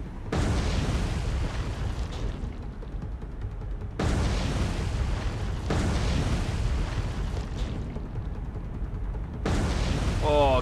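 Torpedo hits on a heavy cruiser in the naval game War on the Sea, three deep booming explosions spaced a few seconds apart, each a loud broadband blast rolling off into rumble.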